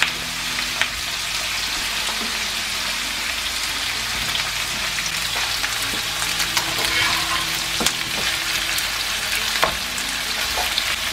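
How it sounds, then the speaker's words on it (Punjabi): Ingredients with tomato paste roasting in a kadhai for kadhai paneer give off a loud, dense sizzle like rain on a surface, with occasional stirring scrapes and no speech. "ਤੁਸੀਂ ਗੋਲਡਨ ਬਰਾਊਨ ਹੋਣ ਤੱਕ ਇਹਨਾਂ ਨੂੰ ਰੋਸਟ ਕਰਨਾ ਆ"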